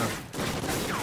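Gunfire in Call of Duty: Ghosts crackles in a dense, rapid burst, close and loud, lasting barely a second.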